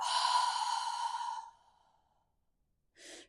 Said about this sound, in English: When you've done that, you can breathe out.